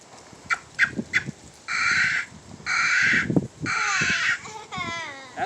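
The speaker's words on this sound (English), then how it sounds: "Do you guys want to hear what sound a squirrel makes?" A played recording of a squirrel call gives harsh, raspy barking chirps, first a few short clipped calls, then longer buzzy bursts and a wavering trill, loud and close.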